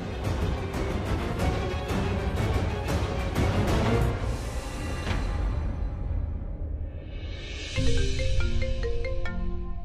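A landline telephone call comes in as a ringtone: a bright electronic melody of stepped tones enters near the end over louder background music, with no voices.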